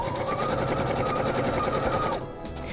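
A sewing machine stitches a fabric makeup pouch with a fast, steady whirring hum close by, then stops abruptly near the end.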